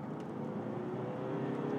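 A Mercedes CLA 220 CDi AMG Line diesel pulls away in first gear, heard from inside as a low, even engine hum with a faint rising whine, moderately quiet and without speech.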